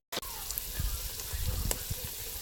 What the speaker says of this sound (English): So now we have our meat on fire and we are frying it.